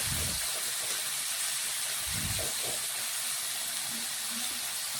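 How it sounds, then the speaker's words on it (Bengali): Oil hisses steadily in a wok as prawns fry, producing a dense, even sizzle close up, with a couple of low thumps from the pan. "এখন কিছুক্ষণ সময় নিয়ে এক পাশ ভেজে নেব।"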